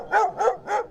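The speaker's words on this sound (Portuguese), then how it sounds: "ouvi meu cachorro, o Tobias, latindo e rosnando." A dog named Tobias gives three quick, evenly spaced barks, loud and close, at night outside an old wooden house, with no growl clearly heard.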